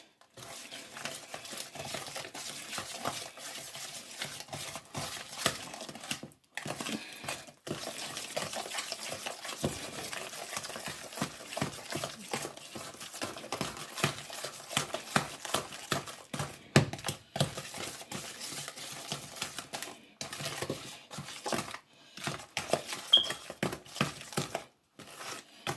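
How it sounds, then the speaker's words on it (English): Batter being mixed by hand in a bowl, a steady run of close, quick scraping and sloshing strokes with brief pauses, and no talking. "And then we'll continue to mix."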